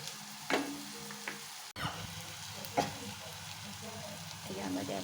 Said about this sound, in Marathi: कांदा आपला छान लालसर परतलेला गेलेला आहे